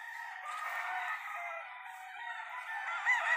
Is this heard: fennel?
no